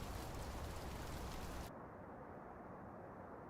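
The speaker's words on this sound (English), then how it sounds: "Rain." Rain in the Euro Truck Simulator 2 video game, a steady broad hiss of downpour that turns muffled and softer about halfway, as if heard from inside the truck cab, with no talking.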